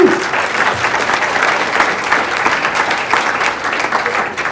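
Dense, sustained applause from an audience at an award ceremony for a chiropractor of the year, loud and even throughout with no talk on top.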